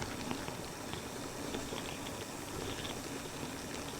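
Light drizzle patters steadily outdoors near Kabayunan View Deck in Barangay Bangkal, a soft, even hiss of fine drops with faint scattered ticks and no talk.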